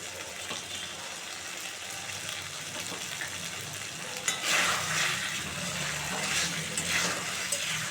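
Raw hilsa fish frying in a pan, a steady, close sizzle with stirring scrapes throughout, growing a little louder and busier partway through.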